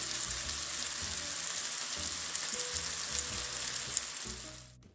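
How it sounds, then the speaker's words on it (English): Chicken burger patties fry steadily in a pan, a close, continuous sizzle and crackle with no talk, tapering off at the very end. "I will proceed to cook them until they are golden brown on each side."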